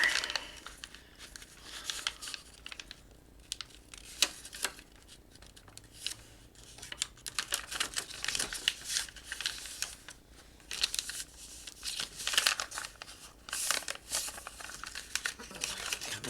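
Paper and cover material being folded and handled for a journal cover, a steady run of close crinkling, rustling and creasing sounds with brief louder crackles, continuing without a break.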